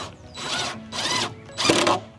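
Power drill driving a screw into a hole while slats are fitted to hide part of a house: three short bursts of whirring drilling, each about half a second, close and fairly loud, with pauses between and no talking.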